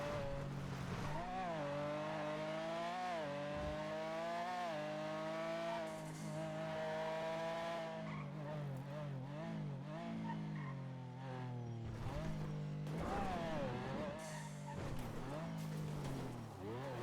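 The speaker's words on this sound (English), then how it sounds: "I might just skip out on this engine forever just because I hate the sound of it." A car engine in the GTA NoPixel roleplay game whines with a harsh, rising and falling rev that repeatedly climbs and drops as gears shift, loud and continuous with faint tire squeal.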